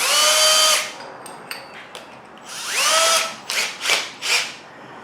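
Power drill boring pocket holes in wood with a Harbor Freight pocket hole jig, several loud whirring bursts that rise in pitch as the motor spins up, with short pauses and brief clicks between them.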